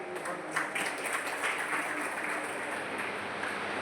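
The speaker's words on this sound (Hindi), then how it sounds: "तो एक बार फिर से मधुर, सुसंस्कृत और उत्साहपूर्ण तालियों से हमारे बच्चों के इस सुंदर नृत्य का अभिनंदन करें।" Audience applause for a children's dance performance at a school Tulsidas Jayanti celebration, a soft, fairly distant wash of many hands clapping steadily throughout.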